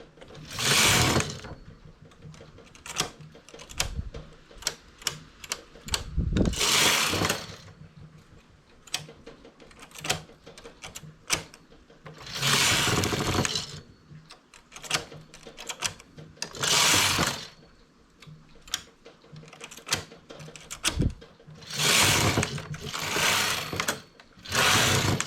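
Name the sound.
knitting machine carriage working rows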